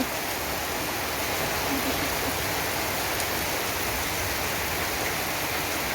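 Heavy rain pours down in a dense, unbroken roar of hissing water, loud and steady from start to finish, with no voices heard over it.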